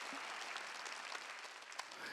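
A church congregation applauds during a worship service, steady faint clapping from a crowd sustained across the short span without distinct voices.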